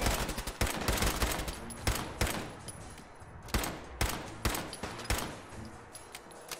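Repeated gunfire in the Fallout 4 video game, a run of loud close shots at an irregular rhythm, some in quick bursts, over a steady low game background with no talking.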